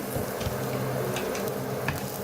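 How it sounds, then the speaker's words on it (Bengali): Chopped garlic frying in oil in a pan, a steady close sizzle with light stirring scrapes throughout, no talking. "দিয়ে নেড়ে চেড়ে রসুনটাকে ভেজে নিব"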